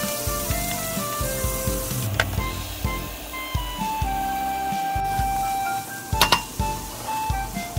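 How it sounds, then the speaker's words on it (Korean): Beaten eggs sizzle steadily as they cook in a frying pan with softened onions, with occasional light clinks of a utensil against the pan throughout. "풀어놓은 계란 부어서 익힙니다"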